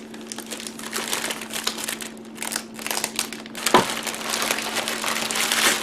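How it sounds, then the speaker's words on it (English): Packing tape stretched and pressed around a sealed Ziploc bag of homemade frozen burgers: continuous crinkling and plastic crackle with a sharper snap midway, close up over a faint steady hum. "And then I'm just going to packing tape it to kind of hold it all in place."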